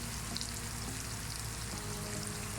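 Ground spices for an aloo beef keema fry in a pan with a dense, even, continuous sizzle that stays close and loud throughout, with no talking.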